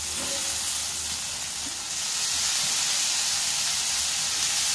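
Chopped ridge gourd and browned onions fry in a hot pan, giving a loud, even sizzling hiss that runs throughout with faint stirring underneath.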